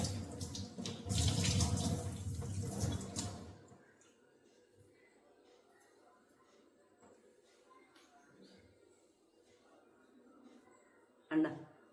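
A tap runs water loudly and steadily for about four seconds while a face is washed, then cuts off, leaving a quiet room with faint shuffling and a brief clatter near the end.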